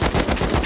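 Rapid automatic gunfire in the survival game Rust, a dense burst of shots fired back to back, loud and close throughout with no talking.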